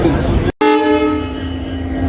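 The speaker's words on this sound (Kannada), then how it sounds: "ಈಗ ಡಿಪಾರ್ಚರ್ ಆಗ್ಲಿಕ್ಕತ್ತದ ನೋಡ್ರಿ. ಇದು ಹರಿಹರ ಟ್ರೈನ್ ಹರಿಹರಿಗೆ ಹೋಗ್ಲಿಕ್ಕತ್ತದ" A Harihar-bound passenger train pulls out of a station, sounding a long, steady, close horn blast after a brief gap, with faint background voices.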